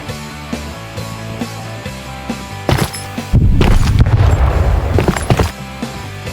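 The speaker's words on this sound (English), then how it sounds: "So there, as you heard, that was the explosion." Explosions in the video game Oxide, a few sharp booms and a long loud rumbling blast in the middle amid scattered clattering game effects.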